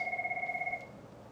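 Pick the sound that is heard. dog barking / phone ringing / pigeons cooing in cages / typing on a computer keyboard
phone ringing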